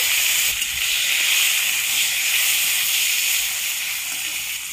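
A loud, continuous bright hiss of chopped tomatoes frying in hot oil seasoned with bay leaf, whole garam masala and a dried red chilli, steady and close with no speech.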